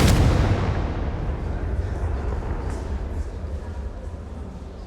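A Confringo blasting spell explodes in Hogwarts Legacy with a heavy, deep boom that hits loud at once, then rumbles and fades slowly over several seconds.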